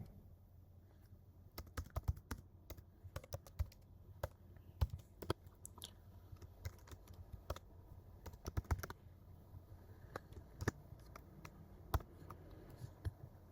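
Close, steady typing of Kotlin code on a computer keyboard, a long run of quick irregular key clicks and taps at a quiet level with brief pauses and no talking.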